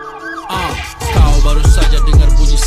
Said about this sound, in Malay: Kau baru saja dengar bunyi siren.